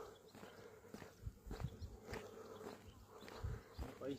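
Bees buzz around a hive during cleaning work in a village, a faint steady droning hum with scattered handling knocks and rustles nearby.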